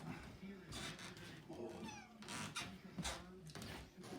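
Cat meowing repeatedly at home, several drawn-out meows in a quiet room, fairly faint and close.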